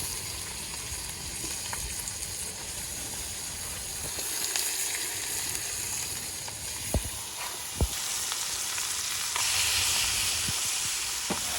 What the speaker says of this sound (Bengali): মশলা কষানো শেষ এখন এই যে দেখেন গোশ দিয়ে দিচ্ছে